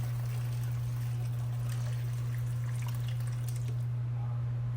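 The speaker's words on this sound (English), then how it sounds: "I'm going to drain the broth just to remove all of the impurities." Pozole pork broth drained from the pot: a steady wash of pouring liquid over a constant low hum, fading slightly toward the end.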